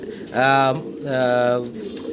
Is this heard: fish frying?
no